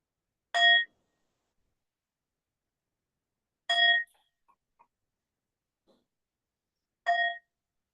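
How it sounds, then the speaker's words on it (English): A meditation bell is struck three times at slow, even intervals, each strike a clear ringing ding that fades quickly into near silence, close and alone with no talk. "with the sound of the bell, we arrive in the present moment"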